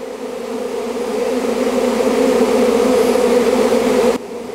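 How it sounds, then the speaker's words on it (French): A honeybee swarm gives off a loud, dense drone, a steady humming buzz close by that builds slightly over a few seconds and then cuts off abruptly. "on va laisser les abeilles se repositionner"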